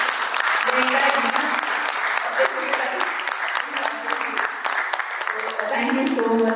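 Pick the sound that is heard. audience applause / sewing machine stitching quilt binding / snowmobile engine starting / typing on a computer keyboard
audience applause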